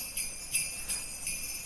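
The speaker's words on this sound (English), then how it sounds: "Okay, so now we have got these sleigh bells that we have panned to the right." Sleigh bells panned to the right in a song mix, heard after EQ processing as a steady bright jingling with regular rhythmic shakes, moderately quiet and alone.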